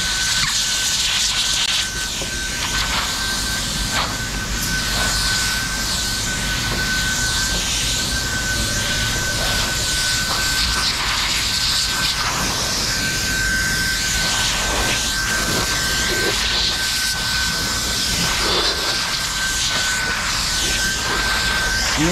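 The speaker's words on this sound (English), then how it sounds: "Right now I'm using it as a blower." A blower pushes air steadily to clear debris off a matte-finish surface, producing a loud, continuous rushing roar with a high whine that runs throughout, close by and without talk.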